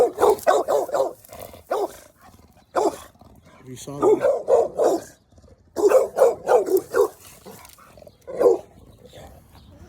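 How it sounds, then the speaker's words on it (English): A couple of dogs bark repeatedly in the background, in short bursts of several barks each, while someone talks over them close to the microphone. "oh, a couple dogs back there"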